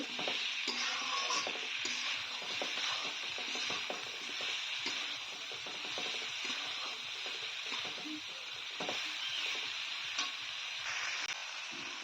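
Mixed greens with cumin and a pinch of turmeric are stirred in a pan. A soft, continuous sizzle comes with light scraping and clicking from the stirring, fairly quiet and without any voices.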